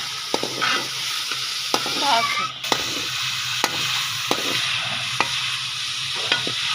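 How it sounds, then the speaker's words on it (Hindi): Chicken and vegetables frying in a pan for desi Punjabi-style macaroni: a constant hissing sizzle punctuated by regular sharp spatula taps and scrapes against the pan, close and fairly clear, with no talk. "मेरा चिकन फ्राई हो चले वहाँ, थोड़ी थोड़ी सब्जियाँ सारी मैं फ्राई कर रही हूँ।"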